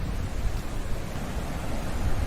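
Mountain stream and waterfall water flows along the Kheerganga trek near Kasol in Himachal Pradesh, making a dense, even rushing roar that fills the short stretch without any talk.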